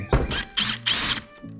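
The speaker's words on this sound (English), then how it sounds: "what you wanna do is you wanna drill out the center hole right here" Three short bursts from a power drill boring out the center hole of an anchor locker hinge on a Yamaha jet boat, each a whining spin of under half a second, close and loud.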